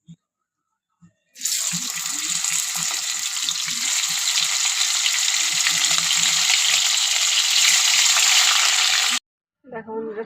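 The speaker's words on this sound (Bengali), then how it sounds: "তেলে আমি চিকেনগুলো ভেজে নেব" Chicken pieces fry in hot oil for a chicken recipe, giving a loud, steady sizzle that starts abruptly and runs about eight seconds before stopping, with a couple of soft knocks before and after.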